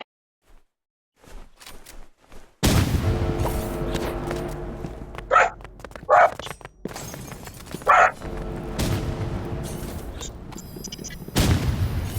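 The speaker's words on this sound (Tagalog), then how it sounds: "maingay po yung aso sa kapitbahay namin" A neighbor's dog barks in short bursts a few times over steady background noise and clatter, with sharp impulsive sounds.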